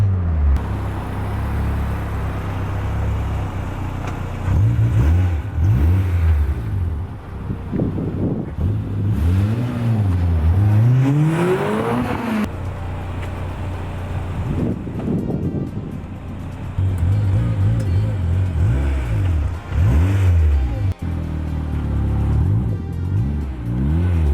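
A 406-horsepower turbocharged Honda S2000 accelerates hard through several gears, its engine note sweeping up repeatedly between shifts, loud and close inside the car amid wind roar.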